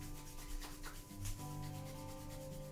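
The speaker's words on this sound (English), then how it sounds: "And rubbing the palms together and the soles of the feet together" Palms rubbed briskly together during a Kundalini yoga breathing series, a soft continuous dry friction swishing for a few seconds, close and quiet with a faint steady background hum.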